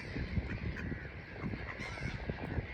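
Waterfowl honk steadily and close by, repeated calls overlapping in a noisy outdoor scene, with ducks approaching.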